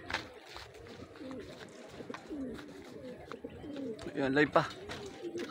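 Racing pigeons coo softly at the loft during a race arrival, repeated low burbling calls mixed with other birds while people talk nearby.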